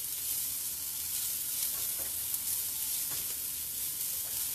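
Garlic sizzling over medium-high heat in a soup pot for vegan minestrone while being stirred, a continuous bright hiss of frying with soft scraping from the stirring, close and steady, with no voices.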